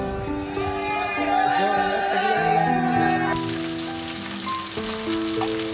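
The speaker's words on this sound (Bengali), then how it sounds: "রান্না করছি সর্ষে ইলিশ।" Hilsa fish frying in mustard sauce for shorshe ilish, a steady close sizzle running throughout beneath music.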